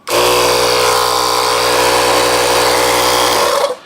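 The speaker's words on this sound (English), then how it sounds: "And now we'll flip the compressor on." A JF EGWO jump starter's built-in air compressor inflating an F-150 tire switches on and runs with a loud, steady buzzing motor drone, then winds down abruptly at the end.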